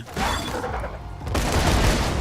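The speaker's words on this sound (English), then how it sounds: "Let's throw a grenade." A grenade blast in Borderlands 2: loud, broad roaring bursts filling the whole moment, with a brief dip before a second, heavier rumbling surge.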